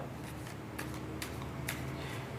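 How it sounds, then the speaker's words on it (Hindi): Tarot cards shuffled by hand, a few soft crisp riffling bursts spaced about half a second apart over a low steady room hum, close and quiet. "सबसे पहले मैं अपने टैरो कार्ड्स को शफल कर लूँगा"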